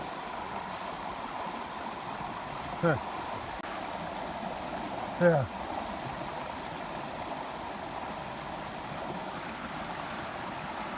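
Floodwater from heavy rain flows over a log in a flooded pasture, a steady, close rushing gurgle. A person briefly murmurs over it twice.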